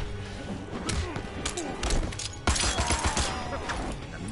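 Rapid gunfire from a gun attack in the fighting game Mortal Kombat X, bursts of sharp shots mixed with heavy thuds and crashing impacts, loud and dense with a big hit midway.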